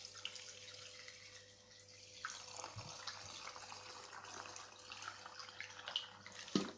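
Water running from a tap into a container while making homemade toilet cleaner, a faint steady trickle and splash indoors with a few small knocks and clinks.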